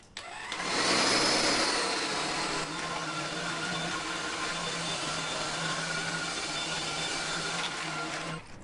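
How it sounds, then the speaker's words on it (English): Philips SpeedPro Max cordless vacuum cleaner running on a floor, a steady high whirring drone that spins up in the first second and holds evenly throughout, close and alone. "It's very smooth when you are vacuuming."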